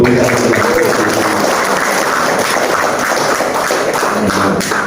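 Applause from an audience at a political party declaration and inauguration ceremony, a dense, steady wash of clapping that fills the whole stretch at close, loud level with a murmur of voices mixed in.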